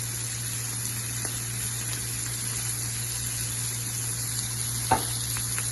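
Chicken sizzles in hot oil with pepper and chili flakes, a steady soft frying hiss with occasional scrape and clink of stirring, close and alone.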